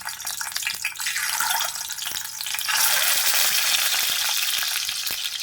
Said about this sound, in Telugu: కాస్త గోల్డెన్ కలర్ వచ్చేంత వరకు అయితే ఫ్రై చేసుకోవాలి వీటిని.